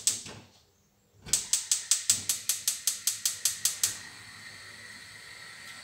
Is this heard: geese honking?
no